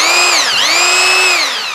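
A concrete hammer drill drives a screw into steel. Its loud, close, high whine dips briefly in speed partway through, then holds steady before easing off slightly.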